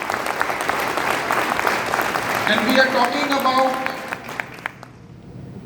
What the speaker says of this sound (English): A big round of applause to all of you.